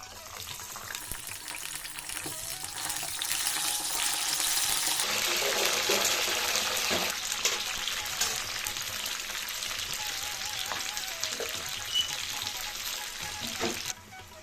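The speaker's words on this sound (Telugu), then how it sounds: "వంకాయలు ఇలా వేగితే సరిపోతాయండి" Whole eggplants frying in hot oil in a pan for a Telugu stuffed brinjal curry, a steady close sizzle and crackle throughout with occasional stirring clinks, no talking.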